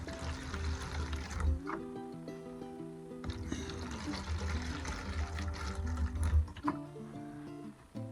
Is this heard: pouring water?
yes